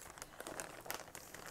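A decorative tiger-themed gift bag crinkles as it is handled, a short burst of soft, uneven paper rustles and crackles close by, with no talking.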